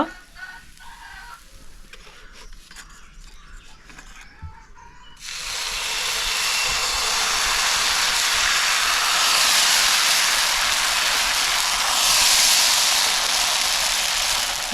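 Amboli, a Konkan-style rice pancake, roasting on a hot pan gives a strong, steady hiss that starts abruptly partway through and holds loud and close to the end, after a quieter stretch of faint kitchen noise.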